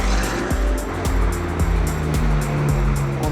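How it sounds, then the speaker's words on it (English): McLaren 720S and BMW F90 M5 development cars lap a race circuit, engines droning steadily with repeated gear-shift dips and rising revs, close and loud throughout with no talking. "Here are McLaren 720S and F90 M5 development cars are going through final testing and data logging of our upgrades on circuit."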